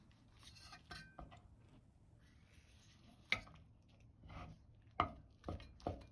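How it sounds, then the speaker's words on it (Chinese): A kitchen knife slices shiitake mushrooms into thin pieces on a cutting board, making a few sparse, crisp taps at uneven intervals over a quiet background. "接下来切香菇，先从中间片成薄片"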